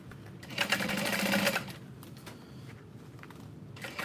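A sewing machine runs in a steady burst for about a second, stitching through fabric lining beside a zippered pocket on a messenger bag, then stops and leaves quiet room noise.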